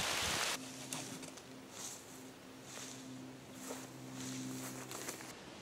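Steady rain falls outdoors at a wilderness survival fishing spot, a continuous close hiss of drops with a faint low hum underneath and no voices.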